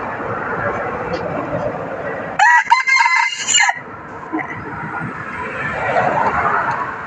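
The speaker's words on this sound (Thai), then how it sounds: "ขันแข่งเขา" A backyard rooster crows once, loud and close, rising and holding for about a second before trailing off, with people talking around it before and after.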